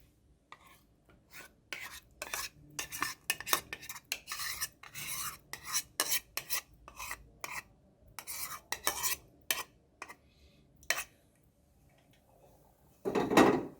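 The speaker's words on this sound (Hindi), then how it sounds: "अब इसको मिक्स कर लेंगे हम मैरिनेशन के लिए।" Chicken being mixed by hand in a bowl with yogurt, red chili, salt and spices for a marinade, heard as an irregular series of close, wet scraping and rubbing strokes with short pauses between them.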